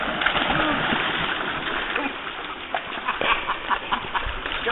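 Dog splashing through a swimming hole, with scattered splashes and sloshing water close by and voices talking over the activity.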